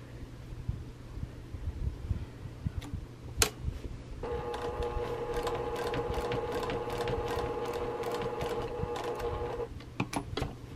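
A sewing machine stitches quilt binding in a quiet, even mechanical whir of about five seconds. Softer ticks and handling clicks come before and after, with no talk.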